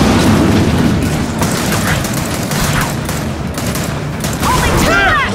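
Heavy gunfire and explosive booms from the video game Gears of War 4 roar continuously at close range, a dense barrage with metallic whines near the end and no break in the noise.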